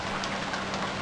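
Steady rainfall in the survival game Stranded Deep, a dense even hiss of drops pattering on surfaces with no other sound.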